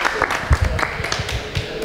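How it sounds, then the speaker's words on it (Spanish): Audience clapping at a gathering in Elviria, Marbella, close and uneven with distinct individual claps, mixed with a few voices. "¡Un aplauso también! ¡Un aplauso!"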